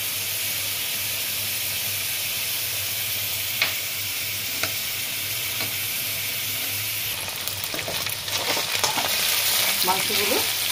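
Chicken mince frying in a pan, a constant even sizzle with occasional utensil scrapes, stirring growing busier and louder toward the end.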